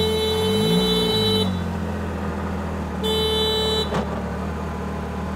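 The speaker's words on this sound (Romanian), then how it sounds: "În schimb, claxonul ăsta" Can-Am Maverick horn blaring in two steady blasts, the first about a second and a half long and the second shorter, loud and close over the side-by-side's idling engine rumble.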